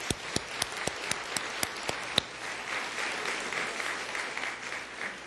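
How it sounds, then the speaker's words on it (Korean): Applause in a church congregation: a few sharp, separate hand claps ring out first, then the whole crowd joins in a steady, fairly distant wash of clapping that carries on to the end. "우리 박수 한번 격려하시죠"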